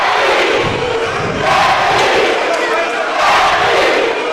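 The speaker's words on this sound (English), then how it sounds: "They're chanting LE." Basketball crowd at a varsity boys game against Liberty Eylau chanting in unison, a loud dense roar of many voices swelling in rhythmic waves that fill the gym.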